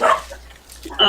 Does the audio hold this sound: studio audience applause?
no